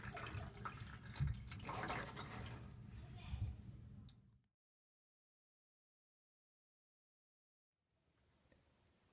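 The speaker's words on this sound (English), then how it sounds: "I can drain all the water from the drum of the washer" Water pours from the drum of a clogged Whirlpool Duet front-loading washer into a tray, a close, splashing gush for about four seconds that stops abruptly, followed by silence and then faint trickling near the end.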